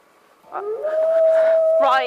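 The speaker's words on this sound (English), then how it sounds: "replaced almost immediately by a haunting howl echoing from the opposite direction" A haunting animal howl, like a wolf or dog, rises and holds one long, steady wavering note near a nighttime campsite, loud and close, ending as a voice breaks in over it.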